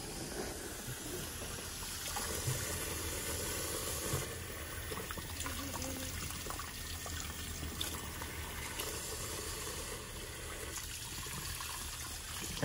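Tap water runs into a sink while a newborn girl's hair is washed, a steady close rushing and trickling stream that continues throughout with small splashes and handling sounds.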